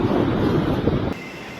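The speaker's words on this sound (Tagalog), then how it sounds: "Ang hangin sumisipol." Loud, blustery typhoon wind in Virac, Catanduanes roars and buffets for about a second, then drops abruptly to a quieter, steady rush.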